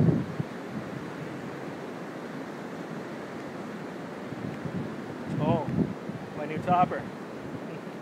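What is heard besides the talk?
waves on a beach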